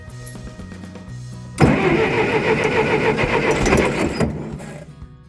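A 1960s backhoe engine cranks over and briefly catches, a loud broadband roar bursting in after a quieter idle-like hum and running for about two and a half seconds before fading.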